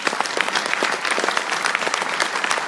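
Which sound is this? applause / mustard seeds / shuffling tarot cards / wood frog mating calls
applause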